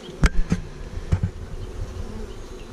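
Honey bees buzz around a hive being delivered to a country park in Midlothian, UK, a close, steady insect hum with a few sharp knocks and bumps near the start.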